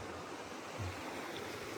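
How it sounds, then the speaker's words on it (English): Creek water flowing past hot spring pools in the Idaho woods, a soft steady broadband wash of running water, faint and continuous with no talking. "Got the sound of this creek and the wood ambiance."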